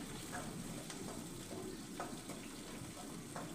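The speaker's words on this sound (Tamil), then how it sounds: "கொஞ்சம் உப்பு போட்டு வதக்கிக்கோங்க" Small shallots sautéing with salt in a pan make a steady, close, moderate sizzle with faint stirring scrapes and no talk.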